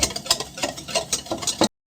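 Half a cup of oil being stirred into chocolate cake batter in a bowl, with a run of close, rhythmic scraping and whisking strokes, about six distinct pulses, with no talking.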